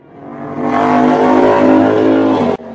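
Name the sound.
cartoon motorbike engine as bear rides over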